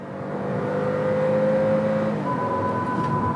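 A car accelerates hard toward a truck ahead, with a loud, close engine note rising steadily in pitch, then shifting to a higher whine while a warning tone sounds near the end.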